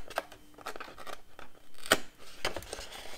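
Scissors snip small bevels into paper tabs for a scrapbooking project, several crisp, close cuts spaced irregularly, one sharper snap in the middle, with no talking.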